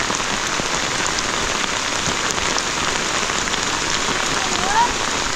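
Heavy storm rain drums on a roof, likely sheet metal, as a dense, steady roar that stays close and loud with no break.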